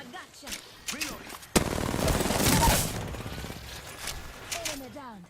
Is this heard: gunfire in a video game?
yes